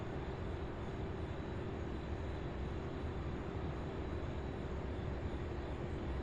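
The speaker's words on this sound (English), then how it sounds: "This one here, 767 out of Dallas-Fort Worth, UPS 793." UPS Boeing 767 freighter from Dallas-Fort Worth, a steady faint jet engine drone with a constant tonal hum, distant and unchanging.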